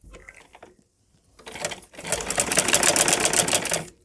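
A sewing machine stitches a flower latkan for a blouse: a few soft handling clicks, a brief pause, then a dense rapid mechanical rattle of stitching running for about two seconds before stopping.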